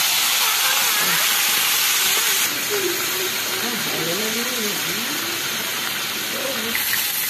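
Fish frying in oil in a pan outdoors on a windy, cloudy day, a loud continuous hiss and sizzle with a voice talking over it.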